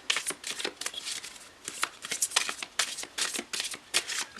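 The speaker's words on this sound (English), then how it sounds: "These cards are big, that's why I shuffle it this way." Large tarot cards are shuffled by hand in a quick, uneven series of soft papery riffles and slaps, close and fairly quiet, with no talking.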